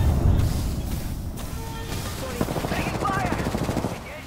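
Video game shootout with bursts of rapid gunfire crackling in the background, mixed with game effects while players talk over the action.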